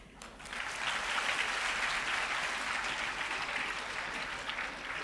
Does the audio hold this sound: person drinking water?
no